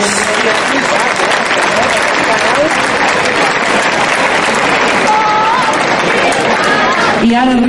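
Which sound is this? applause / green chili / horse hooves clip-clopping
applause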